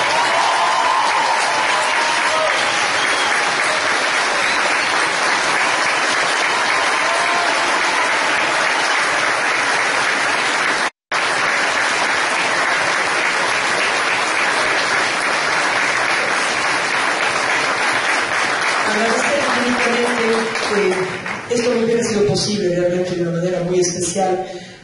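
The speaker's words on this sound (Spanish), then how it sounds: "Queremos darle un caluroso aplauso esta noche." A concert audience gives a Cuenca symphony orchestra and its guest conductor long, sustained applause, a full, even wash of clapping that fades near the end as a voice begins speaking.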